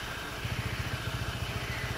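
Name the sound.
motorcycle engine running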